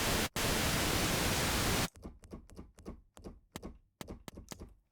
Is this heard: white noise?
yes